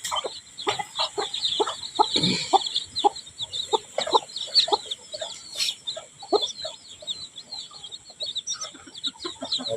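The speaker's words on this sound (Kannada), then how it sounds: "ಕೋಳಿ ಮರಿ." Chickens on a home farm give repeated clucks and short high cheeps, close and busy, with scattered calls over a faint steady background hum.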